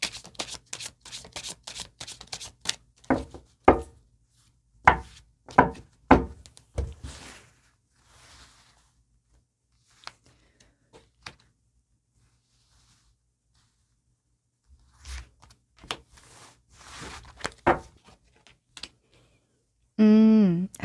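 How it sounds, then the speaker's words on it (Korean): Tarot cards are shuffled and drawn in rapid bursts of crisp riffling and flicking near the microphone, separated by quiet pauses and occasional single card taps, with a brief soft voice near the end. "카드 몇 장 더 뽑아 볼게요."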